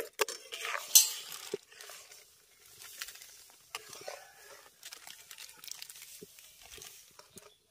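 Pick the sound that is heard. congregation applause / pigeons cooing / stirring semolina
stirring semolina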